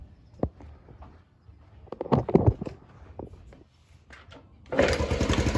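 A vintage Honda Trail 90 (CT90) motorcycle engine catches on a single kick and settles into a loud, steady running putter near the mic, after a few seconds of knocks and handling sounds.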